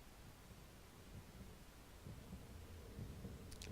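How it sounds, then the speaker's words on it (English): Faint, muffled heartbeat thumps pulse slowly and evenly under a soft hiss, growing slightly stronger over a few seconds, as a sound effect in Chrono Trigger during the approach to the Lavos battle. "You can hear the heartbeat."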